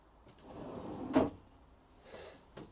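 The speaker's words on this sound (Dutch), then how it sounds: "onder het keukenblok bevindt zich nog een lade voor het bestek bijvoorbeeld" A soft-closing cutlery drawer under the kitchen unit of a 2023 Rapido 696F semi-integrated camper slides, then shuts with one clear muted thud, followed by a faint lighter knock.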